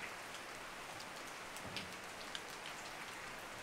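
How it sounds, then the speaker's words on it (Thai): Steady rain patters on surfaces along a wildlife route in Khao Yai, a dense, even hiss of drops at moderate level with a few brighter splashes, heard alone without voices. "ฝนเริ่มตกอ่ะ"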